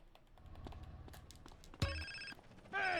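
A mobile phone rings in Grand Theft Auto: San Andreas on PS2, giving a sharp electronic tone that starts near the two-second mark and returns loudly at the end over low game background noise.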